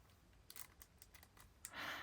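Paper trimmed with scissors in a few quick close snips, ending with a brief breathy rustle, no talk.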